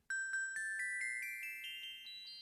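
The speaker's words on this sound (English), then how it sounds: "I'm going to switch over to some bells." Bell tones played on a digital keyboard ring out as a quick run of about ten bright chimes rising in pitch, each sustaining and overlapping the next, clean and alone.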